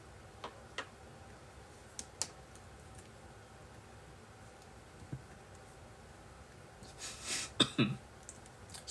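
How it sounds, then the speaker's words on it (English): A short cough or throat clear near the end of a quiet stretch, preceded by a few faint scattered clicks. "I had a little cough."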